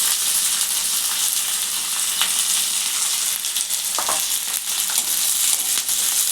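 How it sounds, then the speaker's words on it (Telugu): Green chilies and curry leaves fry in hot oil for puffed rice upma, a loud, steady sizzle with occasional stirring scrapes and crackles, with no talking. "దీంట్లోనే పచ్చిమిర్చి కరివేపాకు అన్నీ ఒకటేసారి వేసేస్తాం"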